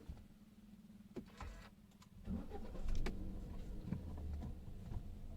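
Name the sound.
Hyundai i20 car engine starting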